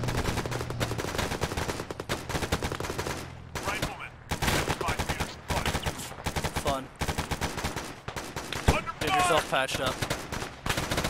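Dense, continuous gunfire during a military video game operation, rapid rifle and machine-gun bursts with near and distant shots, and a voice briefly speaking among the volleys.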